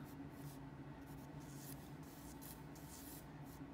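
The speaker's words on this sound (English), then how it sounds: "So very carefully, erase that." An eraser rubs carefully over a pencil drawing of a gorilla on a postcard, producing quiet, close, scratchy back-and-forth strokes in a soft continuous texture.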